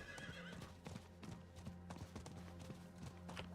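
Horse hooves clip-clopping at a steady ride in the Diablo 4 video game, a continuous loud rhythmic clatter with an occasional neigh, underlying game music and no talk.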